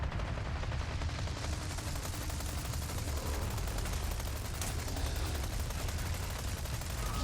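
Steady, rapid automatic gunfire from the Chicago Sweeper in a video game rattles on for about seven seconds, a dense continuous stream of shots at an even level.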